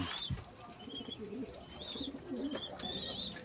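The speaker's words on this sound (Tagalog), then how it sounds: "May ibon." Soft coos from pigeons repeat several times against a background of light chirps and faint room noise, fairly close.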